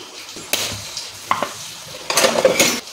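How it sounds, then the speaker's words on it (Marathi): A spoon scrapes and clinks against a pan as semolina (rava) is dry-roasted and stirred, producing irregular metallic taps and scraping strokes close up, with a busier clattering burst near the end. "इकडे मी आता रवा भाजून घेते"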